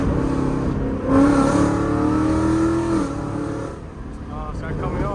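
An automatic car shifted down through the gears with paddle shifters, engine revs rising and falling in short surges as each gear drops, heard close from inside the cabin with a voice talking over it.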